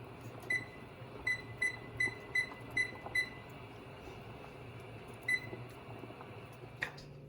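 A series of six short, evenly spaced electronic beeps from a kitchen timer, then a pause and one more beep, over quiet room noise.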